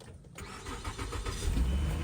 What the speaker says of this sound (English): So let's get this car boosted.